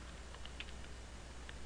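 Faint, scattered keystrokes on a computer keyboard, a handful of soft, irregular clicks while a street name is entered into a search box, set against a quiet background hum.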